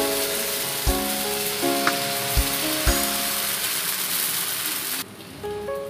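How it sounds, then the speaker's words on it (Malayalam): Sago dosa batter sizzles and crackles on an oiled hot pan, a steady close frying hiss with a few soft clinks of utensils and a hum, and no talking. "ഞാൻ അല്പം എണ്ണ തടവി കൊടുത്തിട്ടുണ്ട്. ദോശ ബാറ്റർ ചേർത്ത് കൊടുക്കാം."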